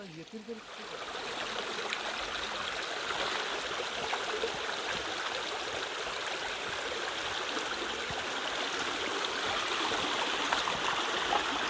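Water flowing down a stream over stones in the countryside, a steady broad rushing and gurgling that stays constant and fairly close throughout.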